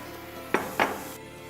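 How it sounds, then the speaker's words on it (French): Chopped onion and tomato drop into a cooking pot for Moroccan vegetable couscous, giving two close, distinct clattering thuds against the pot about a quarter second apart, with nothing else audible around them. "Je récupère l'oignon et la tomate et je les rajoute dans la marmite."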